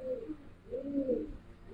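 Pigeons kept in a home cage, including Gribaz silver chila birds, cooing in low, rolling repeated calls at an unhurried pace, close and fairly clear against a quiet background.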